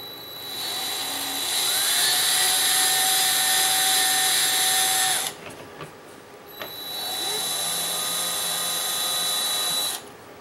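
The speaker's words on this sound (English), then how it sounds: "Let's go ahead and start drilling." A power drill drilling into the metal barrel plate of an IBM Model M keyboard whines steadily at high pitch for about five seconds, stops briefly, then bores again for several more seconds, loud and close.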